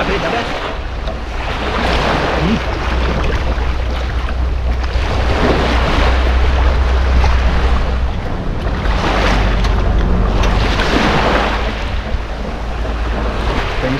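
Loud, steady rush of water current and waves breaking at the shore, continuous throughout with wind buffeting the microphone and surges swelling in waves.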